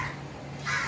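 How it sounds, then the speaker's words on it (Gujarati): Crows caw outdoors near a house, with two brief harsh calls in under a second, fairly close and clear. "કાગડા કાબરો આવી ગયા છે આપણે ત્યાં"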